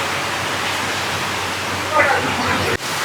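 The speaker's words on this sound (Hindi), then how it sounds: "बड़ी जबरदस्त बारिश हो रही है, बहुत तेज" Torrential rain near a hilltop shrine at Katra with flood-like running water, a loud steady roaring hiss throughout that cuts off sharply near the end.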